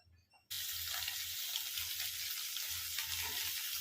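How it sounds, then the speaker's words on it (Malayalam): Fish eggs frying in oil in a pan: a loud, dense sizzle bursts in suddenly after a brief quiet moment and keeps crackling steadily and close throughout. "ശകലം എണ്ണ ഒഴിച്ചു കൊടുത്ത് ഒന്ന് മൂപ്പിച്ചെടുക്കാം"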